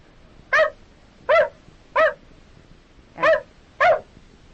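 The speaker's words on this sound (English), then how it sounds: "And that's a dog." A dog gives five short, sharp barks in an uneven rhythm with quiet gaps, played from a recording on an old-time school radio program about animal sounds.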